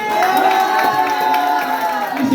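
An audience at a college farewell day event claps and cheers after a speech, a dense, steady wash of applause that stays loud for its full two seconds.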